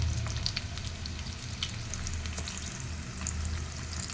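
Homemade paneer fries in a pan with a constant, busy sizzle and crackle under a low hum, steady and fairly close throughout.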